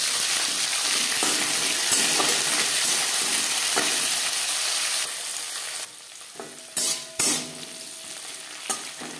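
Flat beans fry in oil with slit green chillies, a strong, continuous sizzle at first, then quieter spitting with a few sharp bursts and stirring knocks near the end.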